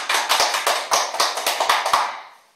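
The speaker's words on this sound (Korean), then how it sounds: "박수." A small group claps in quick sharp bursts, about a dozen distinct claps in an irregular rhythm, close and loud, then fading out, at a laughter-therapy recreation class for seniors.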